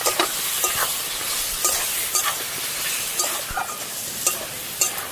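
Spice masala is sautéed with fried potatoes in a pan, making a loud, dense sizzle close up, with steady stirring scrapes and small clinks recurring every half second or so, and no one speaking.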